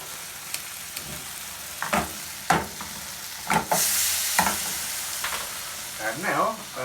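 Very hot chili cooking down in a pan for a Colombian paisa breakfast, a steady soft sizzle broken by occasional stirring scrapes, close with a voice briefly heard.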